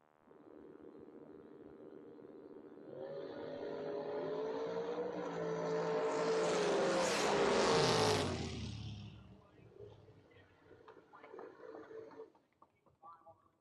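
Drag racing cars launching side by side at Maryland International Raceway, engines building to a loud roaring pass that peaks then fades into the distance, with an announcer talking over the track.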